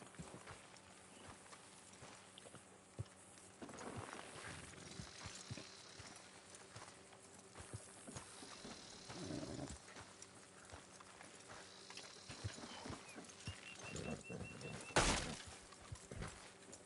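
Horses walking with hooves clip-clopping steadily at moderate distance, set against an outdoor background with a brief sharp louder hit near the end.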